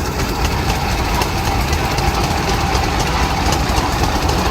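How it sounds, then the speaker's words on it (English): A 111-year-old Pioneer 3060 tractor runs at a threshers' parade reunion in Rollag, Minnesota, its engine a loud, steady, knocking chug that carries on unbroken throughout with no talk over it. "111 years old, this Pioneer tractor, 3060."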